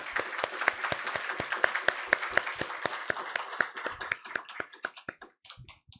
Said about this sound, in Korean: 다시 한번 박수 드릴까요?